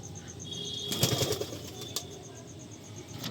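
A male Kaldam pigeon's wings flap in a quick flurry, close by, with soft bird sounds and a faint steady tone in the background.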